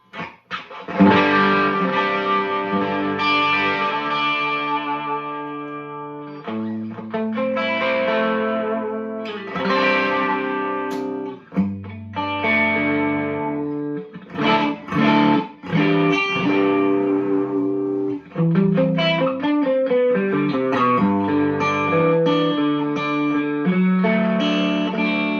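An electric guitar plays chords and riffs through a Nocturne D.C. Fluid Drive overdrive pedal, with a thick, overdriven crunch and some reverb, ringing out steadily with brief pauses between phrases.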